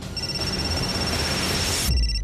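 A telephone rings steadily with a sustained high electronic tone for about two seconds, then cuts off abruptly near the end, with no talking.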